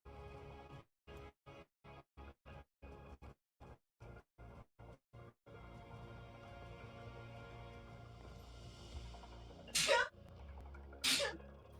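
Two sharp, close sneezes burst out near the end, a second apart, during a tabletop wargame session, after a run of evenly spaced rhythmic clicks and a steady low room hum.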